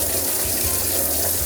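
Hot water gushes steadily from a tap into a bathtub at a mobile dog grooming setup, a continuous close rushing splash with no pauses or voices.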